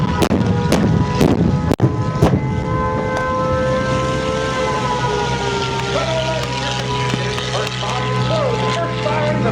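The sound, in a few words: air raid sirens wailing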